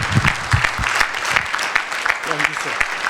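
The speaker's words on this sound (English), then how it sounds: "A big round of applause." Crowd applause at an annual business gala, with clapping throughout, mixed with some voices and a brief tonal sound near the end; moderately loud and steady.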